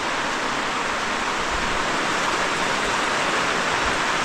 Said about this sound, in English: I've got a little bit of water running right through here